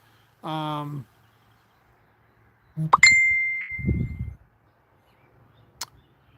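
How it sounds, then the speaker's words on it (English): A phone's notification chimes sound twice, a bright ding ringing out over a quiet room, followed by a short burst of low rumbling handling noise and a faint click. "Let me turn these notifications down, off. It's the only problem with using my phone."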